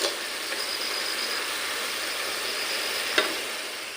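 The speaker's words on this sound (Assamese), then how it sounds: "লো আৰু মিডিয়ামত এখন ভাজি ৰাখিম বঢ়িয়া কৰি" Coconut chira fries in a pan over medium heat, giving a soft, steady sizzle with a faint hum in the background and one brief clink near the end.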